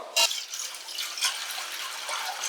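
Water pours into an uruli cooking pot, set to boil cassava for Kerala-style kappa biriyani: a splashy splash at the start, then a continuous, moderately quiet running pour.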